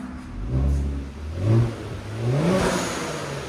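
A 480hp Kia Stinger GT with a 3.3L twin turbo V6 revs up close by, three rising and falling exhaust swells over a rumbling idle, still on the stock muffler.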